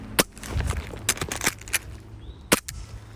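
Airsoft pistol fired during a shooting drill: about five sharp, separate cracks spread over three seconds with short irregular gaps, close and fairly loud, with no talking.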